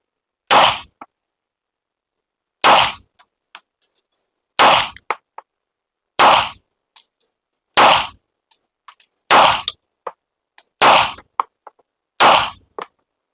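Eight loud, sharp gunshots from a full-size Kiehberg 1911 .45 pistol with a 5-inch barrel, fired at a 7-meter range, spaced roughly 1.5 seconds apart, with faint clinks and handling noises between shots and no talking.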